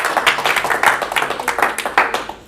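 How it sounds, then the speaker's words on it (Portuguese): A church congregation claps together in steady, fast rhythmic applause, a dense wash of many hands filling the room at fairly loud level throughout. "Salva de palmas para o Senhor Jesus."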